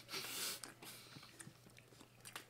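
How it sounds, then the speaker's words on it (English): Someone chews a gooey, non-crunchy food close to the microphone, with faint wet bites and smacks at a quiet level. "It's nice chewing sound for you, the viewer."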